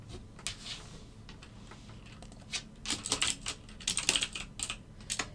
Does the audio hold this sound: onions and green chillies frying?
no